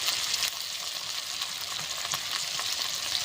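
Spice masala of Kashmiri red chilli powder, turmeric and salt with a splash of water fries in a pan, giving a continuous close sizzle broken by scraping stir strokes, with no voices.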